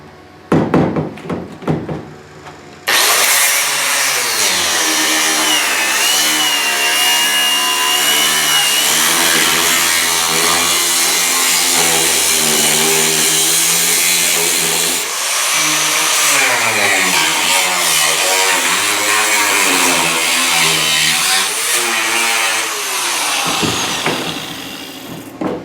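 A power tool cuts through the steel quarter panel of a 1970 GTO with a loud, continuous grinding whine that runs for about twenty seconds. It wavers and dips slightly once partway through, and shorter bursts of clatter come before and after the cut.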